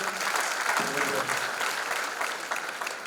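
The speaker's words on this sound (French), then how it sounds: "Sous vos acclamations encore, s'il vous plaît." Audience at a gospel concert applauding and cheering in a sustained, loud burst, dense clapping filling the room with crowd voices mixed in.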